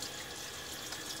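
Steady running water from a bathroom tap wets a shaving brush, a constant close splashing hiss with no pauses.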